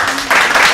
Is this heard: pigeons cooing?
no